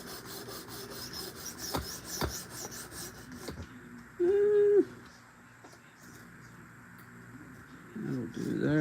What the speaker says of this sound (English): Let's get this tanto sharpened up.